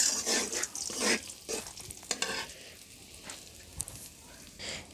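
Salt and turmeric stirred into leftover hot frying oil, the spoon scraping in steady strokes over a bright crackling sizzle that rises and falls, heard alone without talk.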